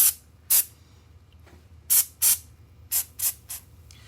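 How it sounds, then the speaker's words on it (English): An aerosol can sprays onto fabric for foiling in about seven short, sharp hissing bursts, close and separated by quiet gaps. "Now this spot right here, I sprayed a little heavy."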